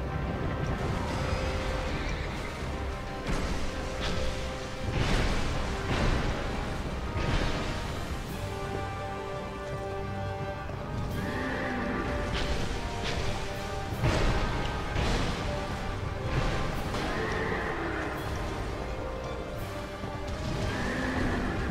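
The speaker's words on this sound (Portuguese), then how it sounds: "Agora vem o cavalo, vai bater com tudo no portão." Horse in the Dark Souls 2 video game neighs loudly and crashes hard into a gate, with repeated whinnies and heavy impacts over a dense, continuous game soundtrack.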